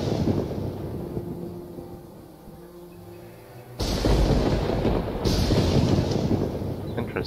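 Lightning strike with thunder in the game Nubarron: a quiet ambient hum with faint tones, then a sudden loud crack and rumbling roar, followed by a second burst soon after.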